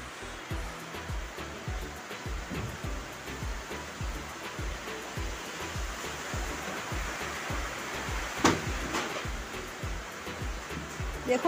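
Semolina mixed with water boils in a pan while being cooked for rasgulla, a steady close hiss and bubbling with soft scraping clicks throughout.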